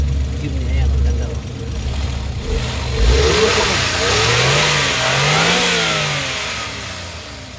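A Suzuki Jimny engine, a Japan-import unit at a vehicle dealer, revs up and down in steady swells at close range, with someone talking over it.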